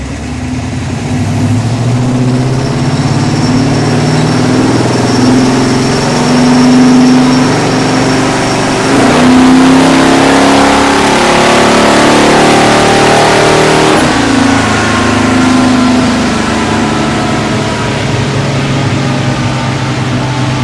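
A car strains on a chassis dynamometer with its air cleaner base refitted, its engine holding a loud, steady rev for about twenty seconds, then briefly changing pitch and coming back up.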